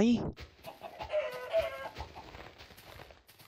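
A Minecraft chicken clucks in short, choppy bursts, close and fairly loud, with a voice talking over the game sounds.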